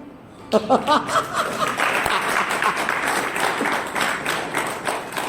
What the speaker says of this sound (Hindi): अरे बजाओ तालियां।